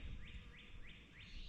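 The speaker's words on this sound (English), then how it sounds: "Obviously you can hear that loud bird." A loud bird calls four times in a woodland on a quiet morning, each note a bright rising sweep, evenly spaced over a faint background hush.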